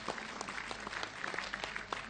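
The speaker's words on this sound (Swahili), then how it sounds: "Wapigie makofi." Crowd applause at a public registration announcement event, many hands clapping in a brisk, continuous patter heard from a moderate distance.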